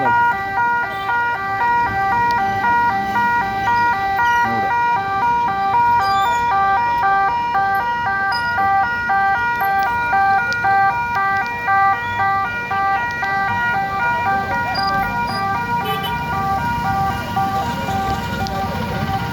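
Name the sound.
ambulance siren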